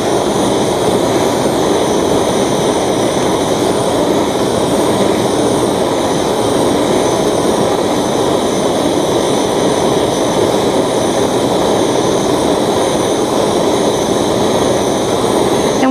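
A jeweler's torch roars steadily and loudly while a pendant piece is heated before soldering, a continuous broadband rushing hiss with no pauses and no talk.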